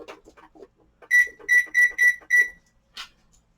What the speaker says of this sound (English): Put my timer on.